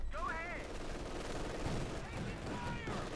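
Machine gun and mixed gunfire crackle continuously in a Company of Heroes 2 battle. The bursts are dense and sit mostly under a commentator's talk, with faint whistling effects.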